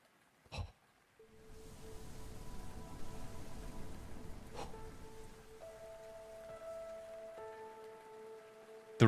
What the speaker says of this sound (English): The rain caresses her palms.